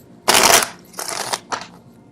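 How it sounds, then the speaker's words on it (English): Tarot cards being shuffled by hand in three quick bursts, a long riffle followed by two shorter ones, close and fairly loud with no talking. "see the card shuffle live, I guess"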